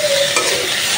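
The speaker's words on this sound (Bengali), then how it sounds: "আর একটু ভাজবো।" Bitter gourd pieces frying in a pan, a bright steady sizzle with scraping and stirring noises close by, no voices.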